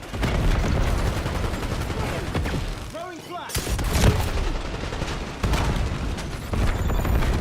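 Sustained gunfire in Call of Duty: Black Ops 7 pours onto a high-value target, dense rapid shots mixed with heavy booms and a short lull before the barrage resumes, loud and continuous.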